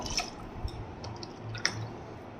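Cups of water poured over rice in a pot for sweet pulao, a few quiet, close splashes and drips spaced out across the clip with soft sloshing between them.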